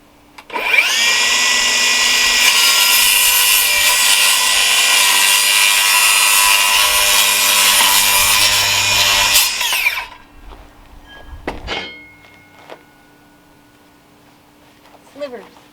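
A power saw cuts a thin sliver off a wooden rafter for a small rooster house, one loud sustained whine close by for about nine seconds, then stopping, followed by a few faint knocks and handling sounds.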